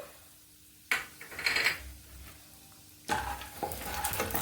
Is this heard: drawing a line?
no